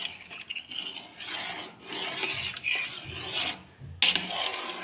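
A spoon scrapes and drags through rice and mutton in a biryani pot. The stirring is slow, uneven and rubbing, with a sharper clink near the end and no speech.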